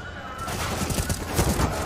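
Rapid bursts of gunfire crackle in quick succession, dense and loud, during a Major final shooter match between NAVI and FaZe Clan on the Inferno map, with a voice faintly in the background.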